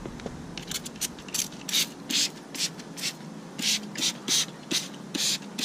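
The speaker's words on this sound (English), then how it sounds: "we're going to go ahead and saturate the dry wheel with the wheel cleaner" Hand trigger spray bottle misting wheel cleaner onto a dry car wheel, barrel and caliper, a rapid series of short hissing bursts with clicking trigger strokes, close and fairly quiet, no talk.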